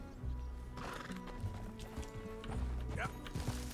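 Horse hooves clip-clop steadily while a mount is ridden in Red Dead Redemption 2, with creaking tack and other game sounds mixed in, fairly close and continuous with no talk.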